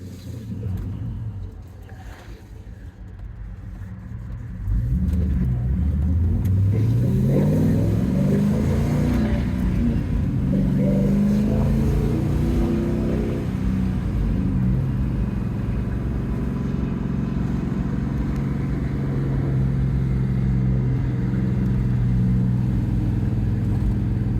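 A 1967 Pontiac GTO restomod with a 6.0L LS V8 and six-speed Tremec idles with a low rumble, then revs up hard and holds a loud, deep, throaty roar with rising and falling pitch, close by.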